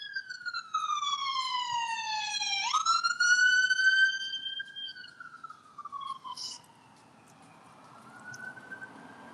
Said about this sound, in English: Is there ever a video where there's not a police siren?